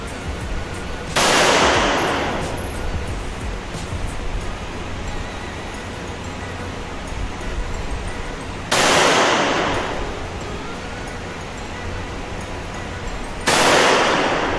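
Three loud gunshots ring out several seconds apart at an indoor shooting range in Pattaya, Thailand, each a sharp blast trailing into a brief echoing roar, with quiet room noise between.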